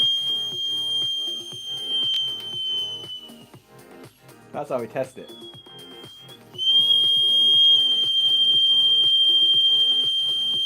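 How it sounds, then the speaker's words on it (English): A low air alarm whistle sounds loudly in a continuous high pitch, stopping briefly while someone speaks, then resuming at full strength. "So that whistle you hear, that's the low air alarm whistle."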